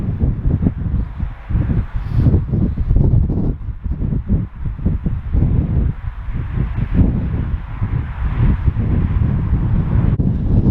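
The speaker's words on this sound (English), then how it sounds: "Wind's got a lot stronger" Strong wind buffeting the microphone at a harbour where someone is fishing, a loud continuous low roar with gusty surges throughout and no talk.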